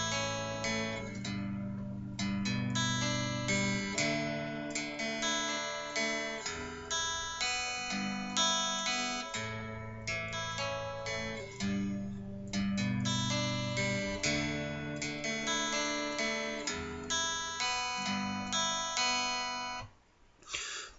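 Guitar plays the intro of a song, a repeating picked chord pattern with ringing arpeggiated notes, played steadily and quietly with no voices, ending in a brief pause.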